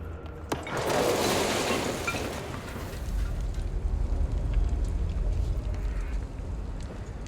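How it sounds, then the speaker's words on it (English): An explosion in the video game Control goes off as a loud, sustained rumbling blast. A sharp crack opens it, then a broad roar holds for several seconds before a low rumble lingers underneath. "Was that a random explosion?"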